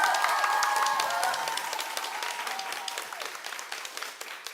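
A concert audience at a live jazz-funk show cheers and applauds loudly. Dense clapping and whoops fill the room at first, then slowly thin out and fade.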